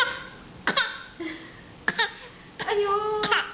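A young child makes a few short, deliberate fake coughs, separate raspy bursts with pauses between them, close to the microphone in a quiet room.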